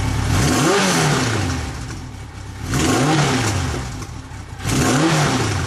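A motorcycle engine treated with fuel additives and octane boost is revved up to about 3,000–4,000 RPM three times in a row, each rev rising and falling back to a steady idle, loud and close with no talking.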